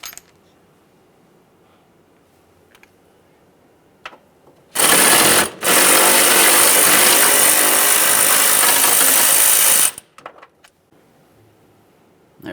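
Power tool spinning out a 10 mm mounting bolt near the washer fluid reservoir of a 2009-2014 Nissan Maxima, one loud, close, continuous whirring burst of about five seconds with a brief stutter, between quiet moments.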